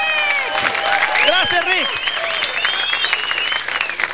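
Applause and cheering from a live audience at a variety show of surprising acts, with bright whistles and shouts over the clapping. Someone speaks loudly over the crowd noise throughout.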